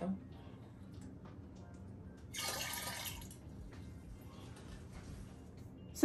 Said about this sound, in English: We're going to add some water to it.